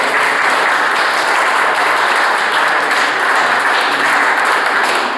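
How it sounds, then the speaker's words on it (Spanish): Loud, continuous audience applause at a formal ceremony, a steady wall of many hands clapping with no voices over it. "Nosotros también son damas a quien pedimos un fuerte aplauso"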